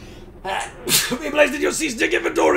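A single sharp sneeze from a person playing Star Fox Adventures, close and loud, followed right away by voices talking.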